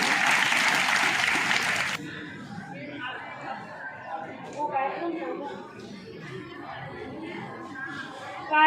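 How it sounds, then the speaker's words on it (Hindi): Audience applause at an annual school function: a loud burst of clapping for about two seconds that quickly stops, followed by quieter crowd chatter and a few voices talking. "जोरदार तालियों से स्वागत करें।"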